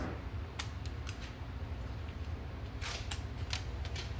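A caulk tube nozzle being cut open to about a quarter inch before adhesive work, heard as several short, sharp snips and clicks over a steady background hum, close and faint, with no speech.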